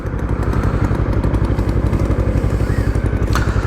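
Up close, a flash-tuned, heavily modified Yamaha R3 sportbike engine keeps up a loud, even, rapid thrum for several seconds, a brief higher tone surfacing near the end, with no voices.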